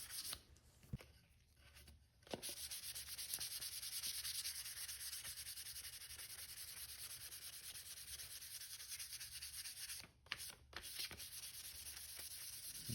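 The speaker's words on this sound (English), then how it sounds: "I'm just going to show how I sanded this piece of walnut" Steady rubbing of 600-grit sandpaper on walnut, a soft continuous hiss with brief pauses near the start and again toward the end.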